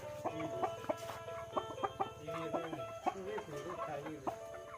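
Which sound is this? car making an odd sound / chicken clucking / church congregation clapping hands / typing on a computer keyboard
chicken clucking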